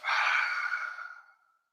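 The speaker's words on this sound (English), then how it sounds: "Exhale through the mouth" A single long exhale through the mouth during yoga breathing, a close, breathy rush of air that fades out smoothly over about a second and a half.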